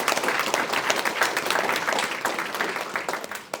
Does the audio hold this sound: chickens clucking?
no